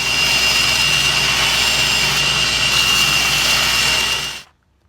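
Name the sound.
grinder shaping wooden draw knife handles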